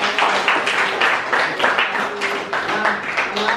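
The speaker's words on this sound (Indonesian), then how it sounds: "tepuk tangan buat kelompok" Students in a classroom clap for a group during a math lesson, a bright, uneven burst of hand claps with a rhythmic pulse that carries on for several seconds, moderately loud and close.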